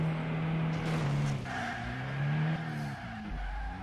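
A car in Driving Zone: Germany skids with squealing tires and a droning engine, then crashes into a house with a low thump near the end.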